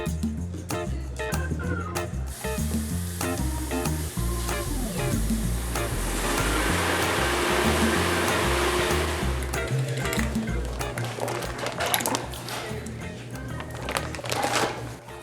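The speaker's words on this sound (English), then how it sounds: "giant ice cream machine works its wonders with speed and efficiency" A giant ice cream machine runs in a busy production setting, giving a loud, steady churning and whooshing roar with a hiss that holds throughout, and rhythmic thumping underneath.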